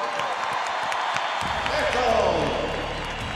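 Huge stadium crowd at the Teletón charity telethon closing night in Chile's Estadio Nacional applauds and cheers Don Francisco, a dense roar of clapping and whoops under an announcer's shouted voice over loudspeakers.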